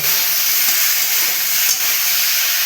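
Chopped ripe and unripe tomatoes added to a hot pan with oil and Kashmiri chilli for a Bengali vegetable tok give off a loud, steady sizzling hiss close by.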